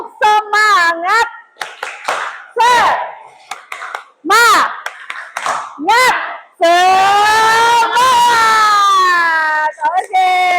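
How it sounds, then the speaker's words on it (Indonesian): In a classroom, students clap rhythmically in a 'tepuk semangat' routine, loud and close, with sharp clap bursts woven between energetic chanted and shouted voices. "kita sama-sama tepuk semangat"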